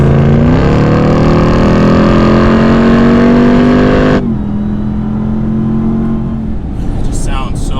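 Supercharged Hellcat V8 of a RAM TRX pickup truck rumbling loudly and steadily at close range, dropping to a quieter idle partway through, with a voice speaking over it.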